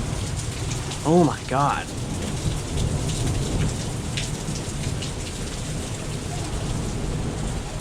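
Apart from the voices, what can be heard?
constant thunder during severe thunderstorm with rain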